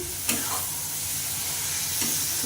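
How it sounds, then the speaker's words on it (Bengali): Rice stirred and fried with spices in a pan for a Bengali muri ghanto: a steady close sizzle with two sharp scraping strokes of the spoon against the pan. "দিয়ে ভালো করে মশলার সঙ্গে কষে নেবো"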